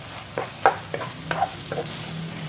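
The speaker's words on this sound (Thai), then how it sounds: "พยายามผัดให้ ตัวซอสเนี่ยเคลือบกับเนื้อได้ทั่วถึงนะครับ" Beef in oyster sauce is stir-fried dry-style in a pan, with soft scraping and tossing strokes landing every half second over a faint sizzle, close by.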